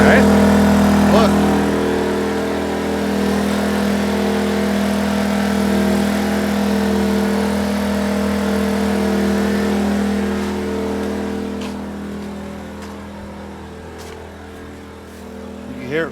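A WEN 56235i inverter generator runs wide open at full throttle, a steady loud engine drone with a strong low hum throughout, while a voice talks over it.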